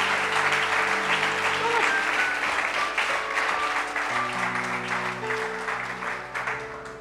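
Church congregation applauding and cheering during a prayer sermon, a loud, steady wash of clapping that fills the room throughout, with sustained voices and music tones underneath.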